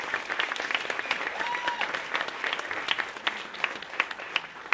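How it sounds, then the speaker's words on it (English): A crowd applauding at a university campaign kick-off event, a dense patter of many hands clapping steadily at moderate distance, with a few sharper claps standing out. "Please, a round of applause for Chancellor Bierman."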